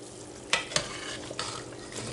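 A spoon stirs a pot of curried chicken with potato, giving a few short scraping clacks against the pot over a steady low bubbling and sizzling, with no talking.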